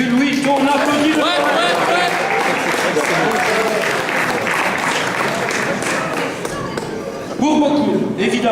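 Loud, sustained applause and cheering from the crowd at a slam poetry contest, with voices shouting over dense clapping throughout and a fresh burst of noise near the end.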